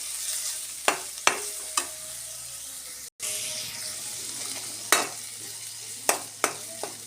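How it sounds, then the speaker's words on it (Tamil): Chopped tomato sautés in a pan for drumstick leaf soup, giving a soft continuous sizzle broken by several sharp spoon scrapes and taps against the pan, with a brief dropout midway and no talking. "அதையும் இதில் போட்டுக்கணும். லைட்டாக வதங்கினா போதும் ஓகேங்களா."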